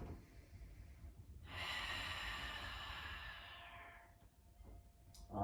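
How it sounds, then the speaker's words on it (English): One long, slow exhale of deep belly breathing during a yoga pose sounds as a soft, airy rush lasting a few seconds, close and quiet, then fades. "Just really breathing into that belly."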